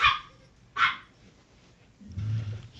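A chihuahua barks in two sharp, close yaps a moment apart, followed by a low grumbling whine, in an otherwise quiet room.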